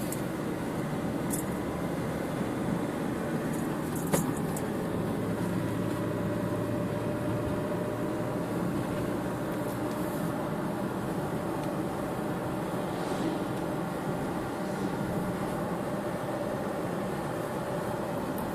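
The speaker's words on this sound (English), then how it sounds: "I'll just keep quiet now so you can actually hear the car drive." Steady low engine drone and road rumble from a Nissan X-Trail TL diesel SUV in motion, continuous and even throughout with no talking.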